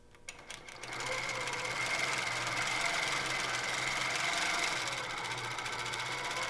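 Innova longarm quilting machine stitching steadily, a continuous close mechanical whir with a faint low hum that starts after a brief quiet moment and runs evenly without talk.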